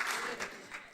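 A church congregation applauds, a short dense burst of clapping with a few swells that taper off within about a second.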